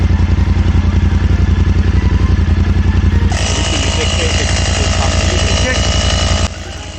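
A small portable air compressor pump runs with a loud, rapid, steady mechanical chugging rattle close by, joined midway by a higher hissing whine before cutting back abruptly, with people talking over it.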